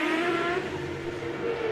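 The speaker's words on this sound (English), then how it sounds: "Minardi Team USA car" A Minardi Team USA Champ Car race car, 2007 season at Surfers Paradise, screams past at high revs with a sustained tonal engine whine that shifts slightly in pitch, loud and alone.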